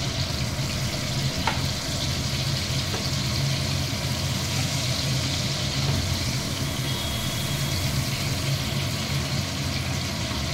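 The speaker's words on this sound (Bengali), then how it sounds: "এইভাবে সবগুলো মাছ ভেজে নেব" Prawns fry in hot oil with a continuous, even sizzle and fine crackling, steady and close throughout with a low hum underneath and no talking.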